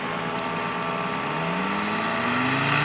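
A steady engine drones continuously at moderate loudness, its pitch slowly rising as it runs.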